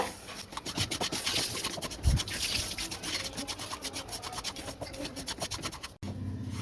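Semolina roasting in ghee while being stirred steadily, a continuous close rasping scrape with rhythmic strokes throughout, no voices, ending in a short pause.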